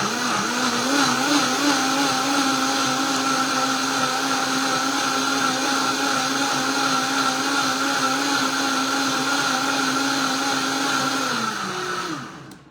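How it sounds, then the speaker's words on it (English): A blender purees butternut squash soup, a loud steady whirring motor with a wavering pitch that runs continuously for about twelve seconds before spinning down and stopping. "Might help if I turn the blender on."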